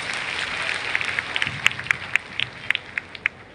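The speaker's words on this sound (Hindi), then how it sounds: "एक बार ताली बजा के हमारी टीम का हौसला बढ़ा।" A crowd at a political rally in a grain market claps in scattered, uneven bursts that build into sharper individual claps heard at mid distance.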